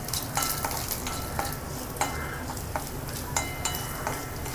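Grated coconut and green chili roast in a pan with a soft, steady sizzle, broken by regular scraping strokes of stirring, close and without talk.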